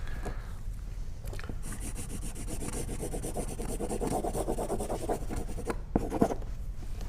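Felt-tip marker scribbling back and forth across a gift label to black out a name, a steady close scratchy rubbing that runs throughout with a short pause near the end.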